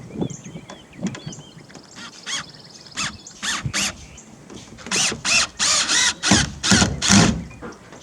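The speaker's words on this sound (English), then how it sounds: "This is with the drill." A power drill drives screws into a rusty tin roof in repeated whirring bursts that grow longer and louder toward the end, close by, with short pauses and faint clanks between runs.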